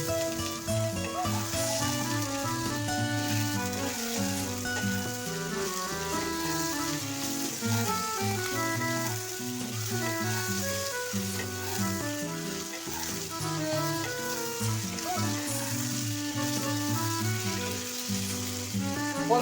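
Vegetables salted and frying in oil in a pan sizzle steadily and close up, a continuous crackling hiss running the whole time beneath prominent background music.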